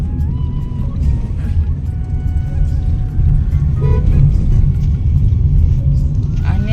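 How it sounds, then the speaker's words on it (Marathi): A car rumbles with a steady, loud low drone from inside the cabin as a first-time driver takes it out, and faint voices sit beneath the engine and road noise. "गाडी चालवतोय किती छान चालवते गाडी"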